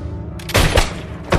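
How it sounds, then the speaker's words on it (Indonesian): Several gunshots fired in a shootout from the action film El Gringo, heard as a quick cluster of loud, sharp blasts following a low rumbling background. "Culebra pun menembak Acep beberapa kali."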